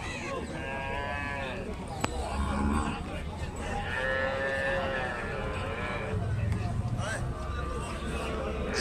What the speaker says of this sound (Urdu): یہ گائے ہے